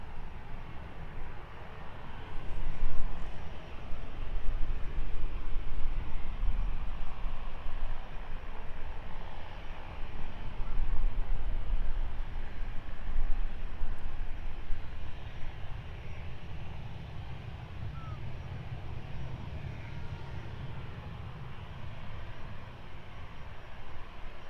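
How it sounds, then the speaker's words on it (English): Jet2 Boeing 737-800 from 2006 departing East Midlands Airport, a steady broadband roar of jet engines from a distance, with a deep low rumble and no talk. "that Jet 2 aircraft making its way off to Heraclion this afternoon"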